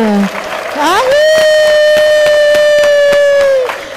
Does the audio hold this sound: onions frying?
no